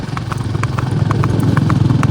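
A mare trots along a village road, and her hooves clip-clop in a quick, steady rhythm. The hoofbeats are close and clear, over a low rumble.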